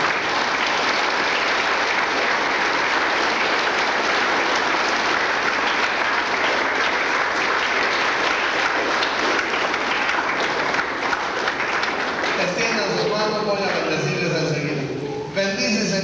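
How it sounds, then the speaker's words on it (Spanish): Loud sustained applause from a crowd at a secondary school graduation ceremony for the students, steady dense clapping that fades near the end as a voice begins speaking. "Vamos a brindarles un aplauso fuerte"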